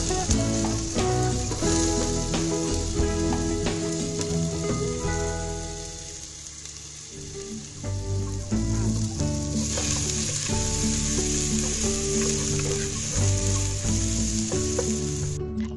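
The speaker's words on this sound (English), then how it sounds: "Add 2 tablespoons of ginger and 2 tablespoons of garlic and sauté well." Ginger and garlic sauté in oil in a pan, giving a steady, close sizzle that runs for the whole stretch with a short dip in the middle. Background music plays underneath.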